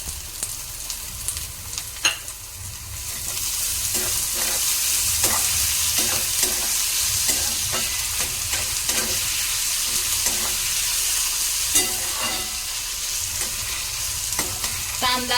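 Tomato and softened, reddish onion fried in oil for a dried-fish and ivy-gourd dish: a loud, continuous sizzle broken by repeated sharp clicks and scrapes of a spatula stirring in the pan.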